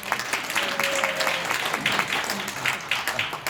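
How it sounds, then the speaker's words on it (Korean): A church congregation applauds during an elder's testimony, a lively, uneven clatter of many hands with rising and falling bursts, while a faint voice or murmur runs underneath. "다시 한번 박수하겠습니다"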